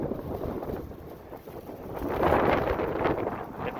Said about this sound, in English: Woo, breezy. Very breezy.